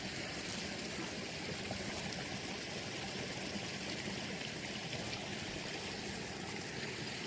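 A mountain stream at around 10,000 feet rushes with a steady, broadband water wash, constant and fairly close, with no voices.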